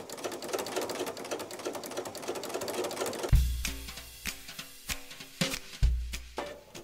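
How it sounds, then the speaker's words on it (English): Sewing machine fitted with a ruffler foot gathering fabric, a fast continuous stitching clatter that gives way to sharper intermittent clicks and thumps from the mechanism. "So you just place it in your ruffler, and so every stitch, it is going to ruffle."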